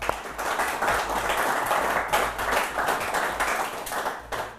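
A studio audience claps steadily for in-studio guests from the Johannesburg chapter of the Young Presidents Organization, a dense, close round of applause sustained throughout.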